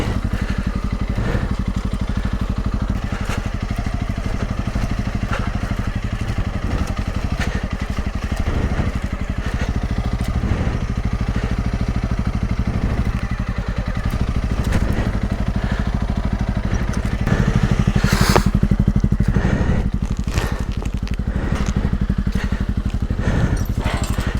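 Honda CRF300 Rally motorcycle on a muddy green lane, its engine droning steadily throughout with some rattling and thumps, swelling a little louder toward the end.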